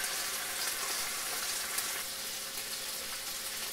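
Small horse mackerel (scad) frying skin-side in a pan, a steady bright hiss and sizzle that carries through the whole stretch without pause, close and fairly soft, with no talking.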